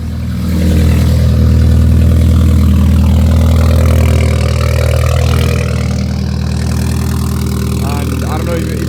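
A BMW 330e fitted with an Alibaba valved exhaust backbox fires up from cold, settling into a loud, deep, rumbling idle that holds steady and close for several seconds.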